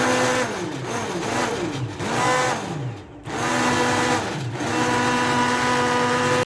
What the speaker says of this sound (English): And the stick blender goes.